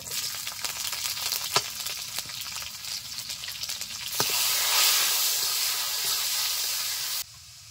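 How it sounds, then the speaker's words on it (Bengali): Onion and garlic sizzle in hot oil along with dried red chilli and nigella seeds for Bengali masoor dal, a steady close frying hiss that swells louder midway, with a few scrapes of stirring and no talk. "দিয়ে দিচ্ছি পেঁয়াজ ও রসুন"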